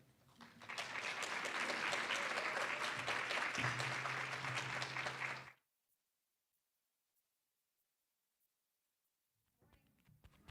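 An audience applauds to welcome speaker Sue Unvarsky. The clapping is dense and sustained for about five seconds, then stops abruptly into near silence. Faint room sound returns at the end.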